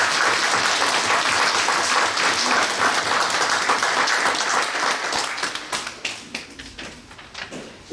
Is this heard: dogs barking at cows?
no